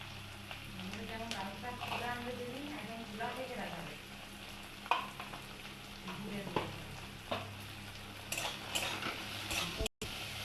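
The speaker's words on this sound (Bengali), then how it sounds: "টমেটোটা দিয়ে দেবো দিয়ে আবার একটু ভাজবো ক্যাপসিকাম দিয়ে দেবো দিয়ে ভাজবো" Tomato and capsicum frying in a pan give a soft, steady sizzle, with occasional stirring scrapes and clinks, while someone talks over the cooking.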